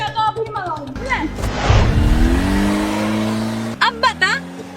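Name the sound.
car engine revving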